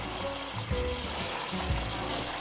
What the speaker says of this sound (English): Okay, put some water here.